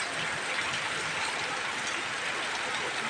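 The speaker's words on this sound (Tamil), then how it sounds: "மழை ஸ்டார்ட் ஆகிடுச்சுங்க நல்ல மழைங்க சரியான மழை ஊற்றுது" Heavy rain pours down in a steady, dense hiss that fills the whole clip, even and continuous with no other sounds standing out.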